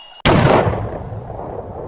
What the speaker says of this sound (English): A single gunshot.